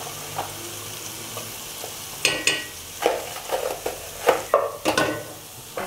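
Squid sizzles in hot oil while a spoon stirs it, giving a steady frying hiss broken by several sharp scraping stir strokes against the pan, fairly close and with no talking.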